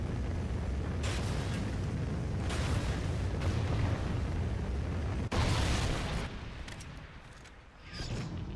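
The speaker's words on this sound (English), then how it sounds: "Friendly Trinity rocket inbound." A Trinity rocket strike in a military shooter video game sets off a long, heavy rumbling explosion, loud and sustained, with a sharp crack midway followed by a fading roar and renewed blast.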